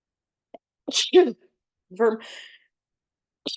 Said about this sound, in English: I'm sorry, I'm going to sneeze.